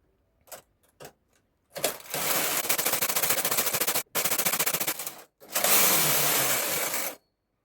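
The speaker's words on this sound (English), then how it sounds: "I'm going to knit 50 rows now and leave the last 50 rows for the neck shaping" Domestic knitting machine carriage knitting rows for an adult T-shirt, a few short clacks followed by long, loud rattling passes back and forth, close up with brief gaps between rows and no voices.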